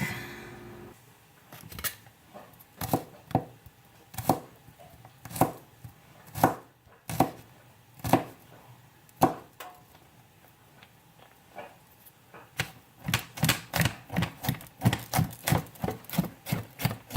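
A kitchen knife chops food on a cutting board in sharp, unevenly spaced strikes, then speeds into a quick run of close, rapid chops near the end, with no voices.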